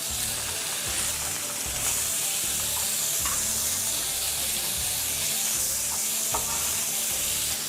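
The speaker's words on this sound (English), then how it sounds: "We can flip these burgers now." Burgers sizzle and crackle loudly in a hot pan, a dense steady hiss with small pops, close up and without talk.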